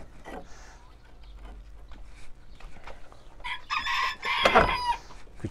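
A young rooster in a backyard coop with pigeons crows once near the end, loud and close, after quiet rustling and a few soft clucks from the flock.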